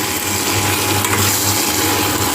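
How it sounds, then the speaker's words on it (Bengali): Spice paste frying in oil for a Bengali bachelor-style chicken curry, a steady dense sizzle with faint stirring, close and loud throughout with no talk. "দেখেছেন কি লেভেলে আমি মশলাটাকে ভেজেছি"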